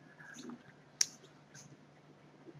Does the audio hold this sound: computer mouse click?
yes